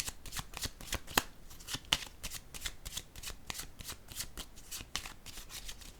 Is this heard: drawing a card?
yes